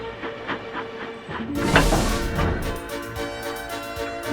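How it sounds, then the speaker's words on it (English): A steam train engine coupled to a second train starts to move, with a steady hiss of steam and a broad rumble that swells after a quiet opening and continues loud and even, with faint rhythmic pulses. "He coupled up to James, and slowly but surely they started moving."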